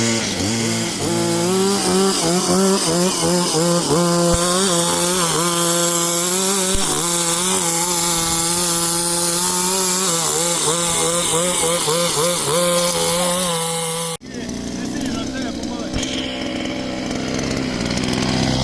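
A homemade motor cultivator built from a brush cutter runs loud and close, its small two-stroke engine revving and wavering in pitch, then dropping to a rougher, duller tone as it works the soil between potatoes.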